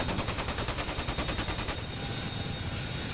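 A door-mounted machine gun fires from a CH-47 Chinook helicopter in DCS, a rapid rhythmic burst that is loud and close. The gunfire stops partway through and leaves the steady roar of the rotors and engine.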